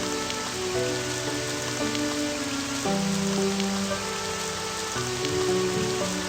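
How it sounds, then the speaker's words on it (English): Steady rain falls in a video game, a constant even hiss laid under soft sustained musical tones that shift in pitch every few seconds. "The rain has gone stronger,"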